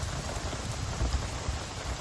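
Rain starting to fall outdoors in Florida, a soft, steady patter and hiss of drops on surfaces, moderately loud and continuous for two seconds with no talking.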